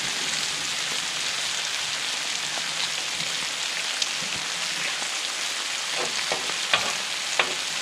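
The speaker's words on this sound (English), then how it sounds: "have me a couple of bacon cheeseburgers for lunch. Isn't that a great sound?" Bacon cheeseburgers sizzle in a pan at deer camp, a steady dense crackle and hiss filling the whole stretch, with a few sharper pops near the end and no talking.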